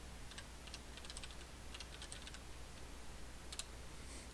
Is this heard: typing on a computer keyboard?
yes